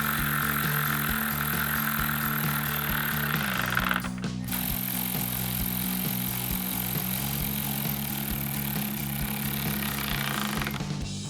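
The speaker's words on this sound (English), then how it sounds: "take a 10mm socket to tighten both of these down" Powered socket driver with a 10mm socket tightening bolts while installing headlights on a 2021-2024 Ford Bronco, a continuous close mechanical whir with a brief pause and a shift in pitch midway.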